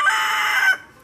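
A rooster crowing once, a loud, close, bright cock-a-doodle-doo call lasting under a second before cutting off to quiet.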